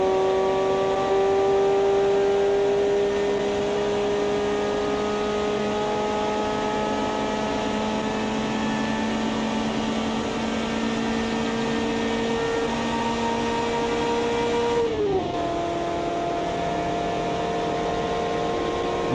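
A 120 HP car engine in the Automation driving game holds a steady, strained high-revving drone that climbs slowly, then dips sharply at a gear change and rises again. Loud and unbroken, with no voices.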